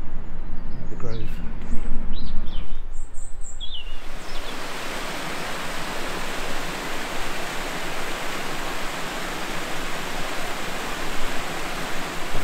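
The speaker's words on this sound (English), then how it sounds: "Lovely cascade waterfall." A loud, steady rush of a cascade waterfall at The Grove in Carshalton fills the scene, with faint talk and birdsong at the start before the roar takes over.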